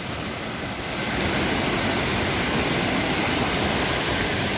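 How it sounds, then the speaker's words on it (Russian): Ne Zevai waterfall at Lake Teletskoye, heard close by as a steady loud rushing roar of falling water, rising slightly after the first second and continuing without pause. "Водопад называется «Не зевай»."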